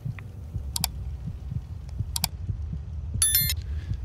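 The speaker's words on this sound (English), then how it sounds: "now that we're inside, I can hear my heart beating" A low, steady heartbeat thumps at low health in the video game Fallout 4, evenly repeating pulses under a low hum, interrupted by a few short bright electronic beeps and chirps.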